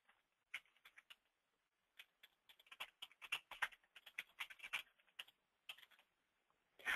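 Bursts of typing on a computer keyboard while entering a street address into PC*MILER 27 routing software, clicking keystrokes in quick irregular runs with short pauses, close and fairly quiet, no voices.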